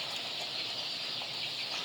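A dense, steady wash of high peeping from a large flock of chicks fills a big poultry house, continuous and fairly even throughout with no voices.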